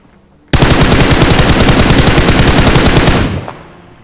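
Automatic gunfire in PUBG, played on a Samsung phone in a Conqueror-tier lobby: a loud, rapid burst of machine-gun shots erupts abruptly, rattles on steadily for about three seconds, then cuts off into a short fading tail.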